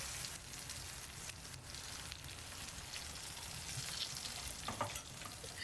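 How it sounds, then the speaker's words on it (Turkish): Whisked eggs are poured slowly over tomatoes frying in a pan, setting off a steady close crackling sizzle with small spitting pops and faint stirring scrapes. "Kızardıktan sonra üzerine çırptığım yumurtayı yavaş yavaş döküyorum."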